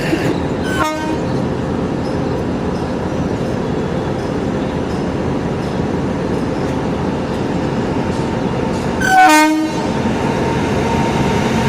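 A DEMU intercity train arriving at a station rumbles steadily close by, its horn blaring briefly near the start and again loudly later.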